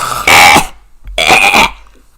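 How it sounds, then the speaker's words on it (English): Two loud, rough guttural bursts close to the mic, a throat being cleared twice with a short pause between them. "I was clearing my throat"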